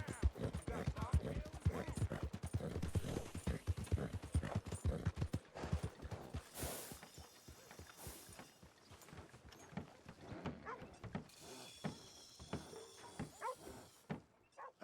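Horse hooves clip-clop steadily at walking pace in the Red Dead Redemption 2 video game, close and rhythmic, with thumps, faint background voices and an occasional whinny mixed in.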